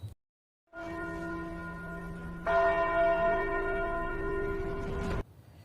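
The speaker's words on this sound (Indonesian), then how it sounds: "Setelah lonceng pertanda pagoda pemurnian Qi berdentang" A temple bell at an anime Qi refining pagoda rings out with sustained, shimmering tones, struck twice, the second strike louder, the resonance holding steady before cutting off.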